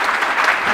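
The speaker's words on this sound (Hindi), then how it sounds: "बस जोरदार तालियां हो इनके लिए।" Loud, dense applause from an audience at a product training program fills the whole short moment, steady clapping close by with no talk.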